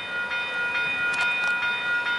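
A CN 568 freight train passes a road crossing, a steady rumbling wash of rail noise with faint horn-like tones held throughout, moderately loud and continuous, with no talking.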